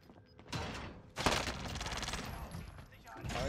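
Rapid bursts of gunfire in the battle royale game Warzone, a loud volley cracking in after a quieter stretch and continuing as sustained automatic fire.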